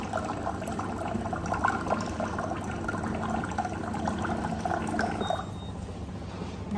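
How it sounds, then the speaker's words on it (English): A hydrogen alkaline water machine runs a steady stream into a glass, a continuous rushing, bubbling pour that holds close and fairly loud, then shifts slightly in tone as the glass fills. "it's filling up the glass"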